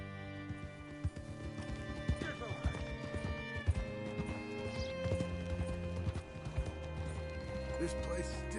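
Rhythmic clip-clop of horse hooves trotting in the video game Red Dead Redemption 2, with game music and ambient sound playing underneath throughout.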